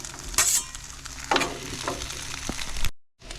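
Jambalaya cooks down in a pan at a campsite, a close, bubbling sizzle broken by scraping stirs and spatula knocks, ending in a brief cutoff before the sizzle resumes.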